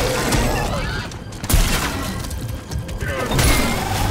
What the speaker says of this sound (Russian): От двух выстрелов из дробаша не сдох.